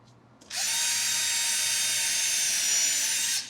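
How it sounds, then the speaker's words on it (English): A power drill bores a pilot hole for a screw at a marked spot, a steady high-pitched whine starting abruptly and running evenly for about three seconds before cutting off, loud and close with no talk. "pre-drill into our little mark"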